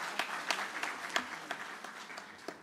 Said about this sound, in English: Nice, nice. A clap for them.